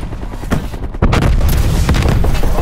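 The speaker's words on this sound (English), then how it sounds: "Throwing incendiary." An incendiary grenade thrown in a Call of Duty Cold War online match on Nuketown gives a sharp burst near the one-second mark, then a sustained loud roar of burning and game-combat noise carries on to the end.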